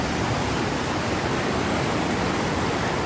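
Snowmelt water rushes down a mountain stream near Manali, a loud, even, continuous roar close by with no voices.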